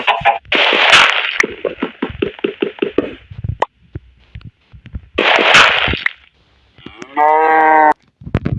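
Low Minecraft mooshroom moos, several in a row, each a drawn-out bellow with short gaps and clicks between them, loud and close.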